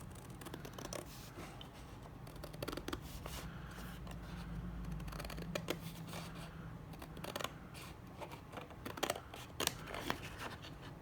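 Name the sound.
scissors cutting green card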